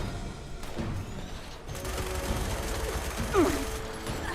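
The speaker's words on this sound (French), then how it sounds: "Ça tire par la forêt rose. Qui me tire dessus là?" Gunfire in the Fallout 76 video game erupts in a forest area as a series of faint, scattered shots and bursts, with a low voice in the background.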